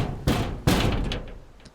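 Someone knocks on a locked door in an audio story. Two firm knocks land about half a second apart, and each one rings out with a fading echo in a quiet room.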